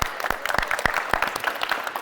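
A small group at a basketball shooting workshop claps, the individual hand slaps distinct and uneven over a thin background, a brief round of applause heard at moderate distance.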